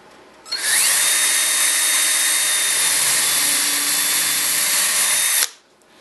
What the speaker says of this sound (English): applying a little side pressure as you're drilling the hole